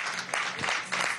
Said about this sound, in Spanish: Un aplauso desde aquí,